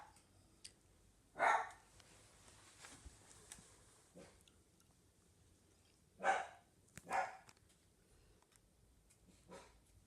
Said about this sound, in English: they made a bunch of noise and got the dogs all stirred up